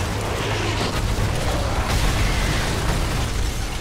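Mortar shelling in Call of Duty: Modern Warfare 3 keeps up a loud, continuous roar of blasts and rumbling booms across the whole stretch, with heavy low-end pounding and no clear pauses between hits.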